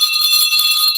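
A bright, sustained bell tone rings steadily and loudly for about a second at a panel discussion on skills versus traditional education, signalling time for an ambassador speaker, with no talking over it.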